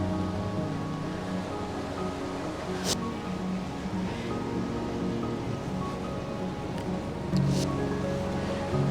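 Sea waves wash onto the shore in the early morning, a steady wide surf wash throughout with a few brief sharper splashes, fairly soft and continuous without voices.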